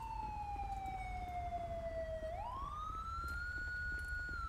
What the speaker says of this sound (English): Let me just get in my car and turn off my siren.